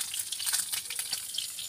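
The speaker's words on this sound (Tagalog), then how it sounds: "piprito tayo ng isda" Fish frying in a pan, a crackling, hissing sizzle with bursts of spattering, close and moderately loud, heard alone.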